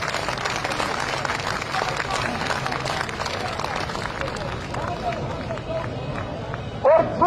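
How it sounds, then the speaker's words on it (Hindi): A large crowd of protesting teachers at a Lahore rally claps in a dense, continuous patter of applause with background murmur, steady across the span, with a brief louder burst near the end. "मैं चाहता हूं कि तमाम साथी जो भरपूर तालियां बजाएं।"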